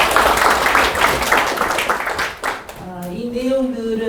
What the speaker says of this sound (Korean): 너무나 그 명쾌하게 잘 정리해 주시고 강의해 주신 우리 이재희 강사님께 다시 한번 큰 박수 부탁드립니다